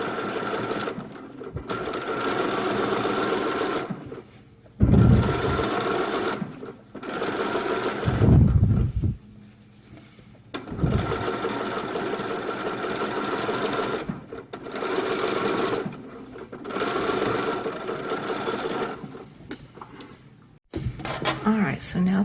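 A sewing machine stitching fabric runs in repeated bursts of rapid whirring, broken by short pauses and soft handling knocks, with a voice talking throughout.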